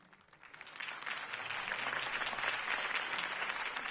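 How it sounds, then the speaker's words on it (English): Crowd applause in the Batman Telltale series video game, a steady wash of many hands clapping that swells over the first second and holds at an even level, with no speech over it. "If only Mr. Wayne, my campaign's largest backer, could have heard that applause"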